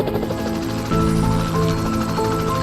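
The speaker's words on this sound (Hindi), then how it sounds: "यहाँ पे तो सचमुच में एक हेलीकॉप्टर आ चुका है" Helicopter arriving, a steady broadband rotor and engine drone that stays loud and continuous throughout with no voices.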